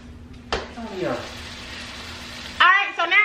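Italian sausage frying in olive oil in a pan gives a steady close sizzle after it drops in at the start, with brief stirring scrapes near the end.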